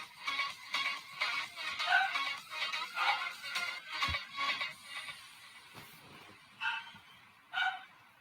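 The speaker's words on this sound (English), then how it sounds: "You might hear my dogs barking in the background." Dogs bark repeatedly in the background, a steady run of muffled, somewhat distant barks that thin out into a few isolated yips.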